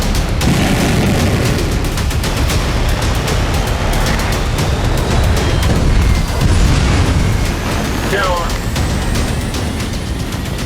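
A missile strike explosion in central Israel on a Sunday morning, the missile fired from far away: a loud, continuous rumbling roar with crackling bursts over about ten seconds, with voices faintly audible underneath.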